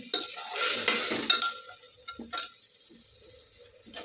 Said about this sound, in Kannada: ಈಗ ಪೇಸ್ಟ್ ಹಾಕ್ಕೊಂಡು ಸರಿ ಚಲೋ ಮಿಕ್ಸ್ ಮಾಡ್ಕೊತೀನಿ ನೋಡಿರಿ ಎಲ್ಲ ಒಂಚಿಗೆ ಮಾಡ್ಬೇಕಂದ್ರೆ ಚಲೋ ಹುರ್ಕೊತೀನಿ ರೀ